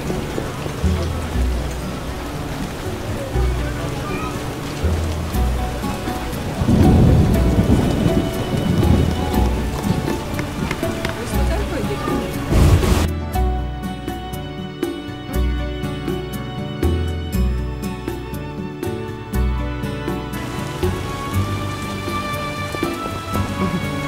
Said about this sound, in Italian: Basta con questa pioggia.